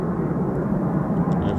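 A Eurofighter Typhoon FGR4 jet flies at night at RAF Coningsby, a steady broadband roar held for the whole short stretch, loud and continuous with no clear rise or fall.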